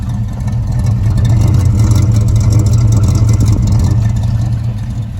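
A restomod 1964 Chevy El Camino with a 350 V8, long tube headers and a mild engine build rumbles steadily through its exhaust with slight revving, close and loud.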